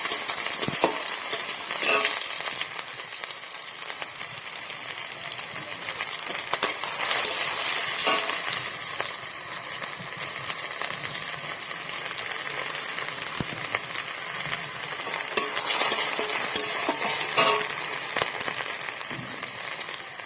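Chopped onion frying in hot oil in a pan, a loud continuous sizzle close by with repeated scraping of a spatula as it is stirred.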